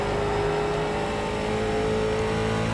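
A late model race car engine in iRacing roars steadily at high revs, close and loud, with no talk over it.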